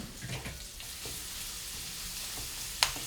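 Onions frying in bacon fat in a pan, a steady close sizzle with a few stirring scrapes and one sharp utensil clink near the end, no talking.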